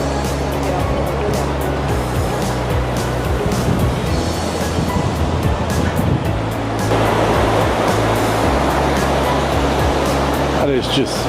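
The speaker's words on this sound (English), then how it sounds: "That is just boiling hot water running into that river." Boiling hot spring runoff at Yellowstone's Midway Geyser Basin pours into a river in a steady, loud rushing wash. A person talks over it.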